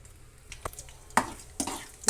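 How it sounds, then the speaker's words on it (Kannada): Spices for a chutney tempering fry in hot oil, giving a quiet crackle with a few sharp pops and stirring scrapes over a short stretch. "ಈಗ ಫ್ರೈ ಮಾಡ್ತಾ ಇರೋದು ಒಗ್ಗರಣೆಗೆ ಫ್ರೆಂಡ್ಸ್ ಚಟ್ನಿ ಒಗ್ಗರಣೆ ಮಾಡೋದಕ್ಕೆ"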